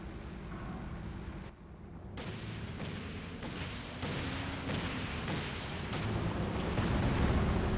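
An artillery barrage in the strategy game Company of Heroes 2 rumbles on as a dense, low wash of booming explosions and distant thuds, with a steady roar of shellfire that builds slightly louder toward the end.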